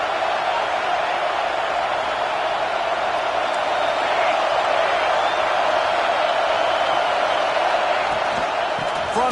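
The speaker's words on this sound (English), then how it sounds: "This crowd trying to make life miserable for this offense." A football stadium crowd at a Florida State versus Utah game roars in a steady, loud, unbroken wash of noise, with faint whoops rising now and then from the stands.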